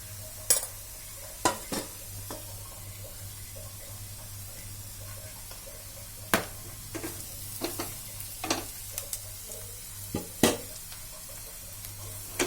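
A spoon stirs onions and spices frying in a pan for Sindhi okra-and-onion sabji, giving scattered sharp clinks and scrapes over a low, steady sizzle, close by with no talking.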